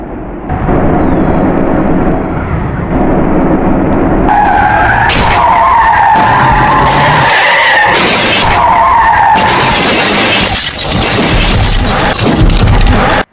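Bus Simulator Indonesia game crash in which a bus ploughs into a convoy of Supra MK4 motorbikes and a truck rolls over: continuous loud engine roar and tyre skidding with repeated metallic crunching impacts and shattering through the whole stretch, no voices.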